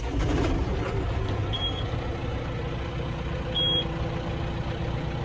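A 2022 John Deere 6145M tractor engine running with a low, steady diesel rumble, close by, and two brief high electronic beeps sounding over the drone.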